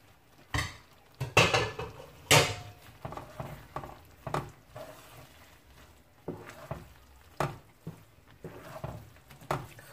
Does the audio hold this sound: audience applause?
no